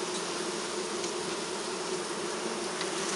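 A dense, steady drone of many honey bees buzzing close by at an open hive, continuous and loud with no pauses.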